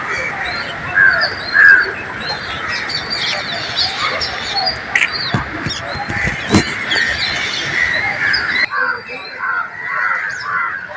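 Crows caw in a noisy commotion around a bird in distress, harsh calls overlapping and repeating near and far, under a steady narrating voice.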